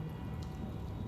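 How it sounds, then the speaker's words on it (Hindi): Steady rain falls all around in a dense, even hiss of drops, with no voices and no pauses across the brief stretch. "जहां नजर जा रही है वहीं बारिश ही बारिश, बारिश ही बारिश भाई"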